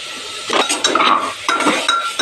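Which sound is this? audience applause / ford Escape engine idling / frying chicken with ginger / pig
frying chicken with ginger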